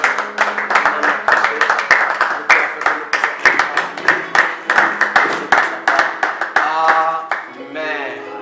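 A church congregation claps in a fast, steady rhythm during a worship service, loud and close, with voices calling out near the end.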